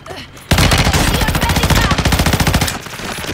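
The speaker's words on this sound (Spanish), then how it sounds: "Están disparando por acá, a la derecha." Rapid, loud automatic machine-gun fire in Call of Duty: Warzone Mobile, a sustained burst of dense, evenly spaced shots that starts abruptly and runs close and continuous before easing slightly near the end.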